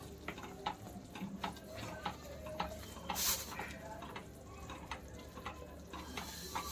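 A spoon stirs a sesame chikki mixture just after a pinch of baking soda goes in, scraping and clicking in a loose rhythm over a faint bubbling sizzle.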